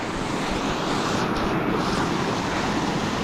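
Babarakanda waterfall in Sri Lanka, seen from the top of the falls where the water drops over the edge, gives a steady, loud broadband roar of rushing water that holds unbroken and alone, with no voices.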